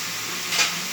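Chili powder, coriander powder and sambar powder sauté with carrots in a pan, a constant close sizzle with a brief louder stir-like swell midway, no talking.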